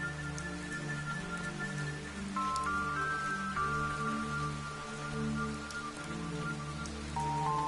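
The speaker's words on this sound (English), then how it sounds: "continued to walk through the rain" Rain in the video game Fantasian Neo Dimension hisses steadily without a break beneath sustained, droning musical tones that shift slowly in pitch.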